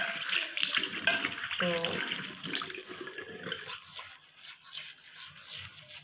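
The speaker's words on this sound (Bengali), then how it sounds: "আমি তো যে মুখ ধুচ্ছি দেখো।" Tap water runs steadily while someone washes their face at a sink in the morning, with splashing from handfuls of water, and a voice speaks briefly over it at the start.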